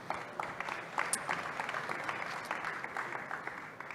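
An audience applauds a guest joining a business talk on digital collaboration and management: soft, fairly distant clapping that continues evenly throughout.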